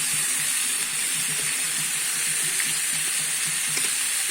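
Watermelon with salt and turmeric stirred in a hot pan, a soft continuous sizzle with faint scraping of the spoon, steady and close with no talk.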